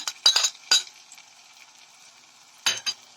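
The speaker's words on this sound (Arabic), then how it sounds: "بنحط فيها الزيت وبندفيه شوية علشان نبدأ ننزل بإيه، بالبصل معانا" Onion and garlic in hot oil in a tray, heard as a steady soft sizzle under sharp clinks and stirring taps of a utensil against the metal, bunched at the start and again near the end.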